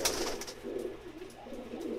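A small Banka pigeon, a young domestic bird, coos softly and repeatedly in low rolling phrases, close by and fairly quiet, with no talking.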